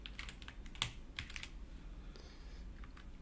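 Typing on a heavy keyboard with ceramic keys, a quiet run of irregular clacking keystrokes with a few sharper taps, heard alone in a calm room.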